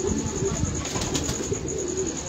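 A pigeon, judged good in build with a fine tail, coos in low soft murmurs that run steadily through the moment, with light rustling around it and no clear talk.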